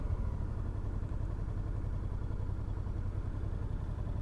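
A Honda Deauville NT700 with a 700cc V-twin engine rumbles at a low, steady idle, with an even throbbing pulse and a slight mechanical clatter close by.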